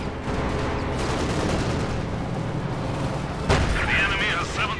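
Steady rattling gunfire fills a Company of Heroes 2 battle as units fire on an SU-85 tank destroyer, dense and continuous with a heavier blast near the end, under a commentator's voice.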